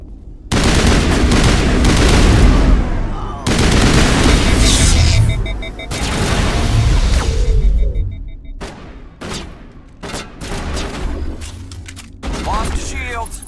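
A heavy firefight in the video game Mass Effect, with loud, dense rapid gunfire and booming impacts filling most of the clip, then breaking into separate bursts and single shots, and voices briefly heard amid the shooting.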